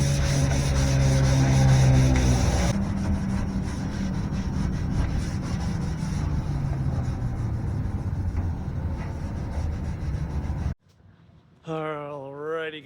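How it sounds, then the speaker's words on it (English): Steady, loud rubbing and scraping as the bed of an 11-year-old Chevrolet Silverado pickup is scuffed to dull the shine before a bed liner goes on; the abrasion runs continuously, then stops and a voice speaks briefly at the end. "we're just gonna scuff it up, make sure we get all the shine off of it"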